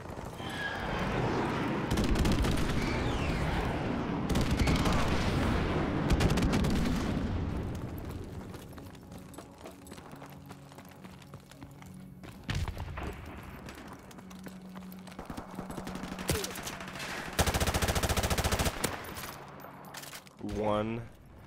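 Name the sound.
gunshots in the video game Modern Warfare Remastered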